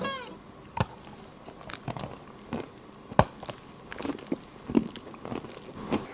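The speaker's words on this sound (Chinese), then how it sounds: "这玩意儿嚼起来感觉那声音应该是还不错的" Someone chews a hard edible clay block, a chalky mineral lump, close to the mic. Sharp irregular crunches and bites are spread across the stretch over quiet mouth sounds.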